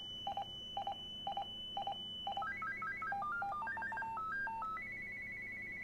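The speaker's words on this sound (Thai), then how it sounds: "อันนี้คือเสียงคลาสสิกของ Motorola เลยนะ" A Motorola Talkabout T246 walkie-talkie plays its classic Motorola call tone: several short electronic double beeps, then a rapid warbling melody of chirpy tones ending on a sustained high beep, moderately quiet and without speech.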